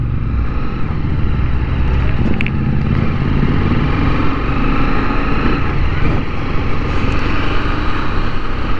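A 650cc Interceptor motorcycle rides on a foggy road near Rajkot, its loud, continuous engine rumble and wind noise staying close throughout.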